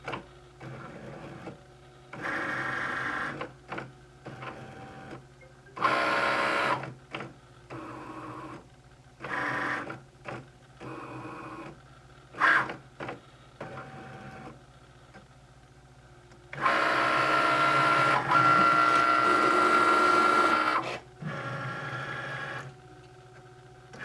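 A Cricut cutting machine scans a registration mark and then cuts sticker paper, giving short mechanical whirring bursts with pauses between them and a longer sustained motor run near the end, close by and moderately loud.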